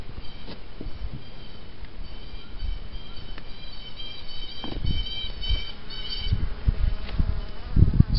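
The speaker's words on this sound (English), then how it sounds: "I have bees but no honey" Honey bees buzzing steadily at an opened hive after winter, a continuous close drone with some dead brood in the hive, plus occasional low knocks and handling bumps.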